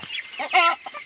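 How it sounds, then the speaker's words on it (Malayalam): A short burst of clucking from a mix of young and grown chickens, nearby and fairly clear, with a few quick calls run together. "കോഴികൾ"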